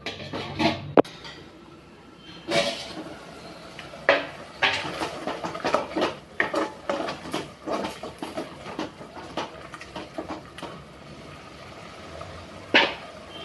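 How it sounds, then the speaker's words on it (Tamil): Ingredients sauté in a pan for a chicken gravy: a spoon scrapes and clinks against the metal in irregular bursts over a soft, steady background hiss, close up, with no talking. "ஒரு ரெண்டு நிமிஷம் எல்லாம் சேர்ந்து வதங்கட்டும்"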